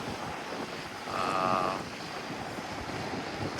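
Strong ocean waves surge against the coral limestone coast at the collapsed natural bridge in Aruba, a steady broad wash under gusting wind, swelling louder for a moment midway before settling back.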